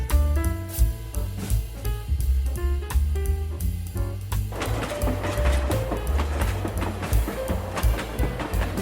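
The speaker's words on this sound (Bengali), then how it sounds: "ট্রেন চলে এসেছে, ট্রেনে উঠি।" A cartoon train pulls into a station with rhythmic clickety-clack and mechanical clatter. The sound holds at moderate loudness and shifts into a denser rolling rumble partway through, with no voices.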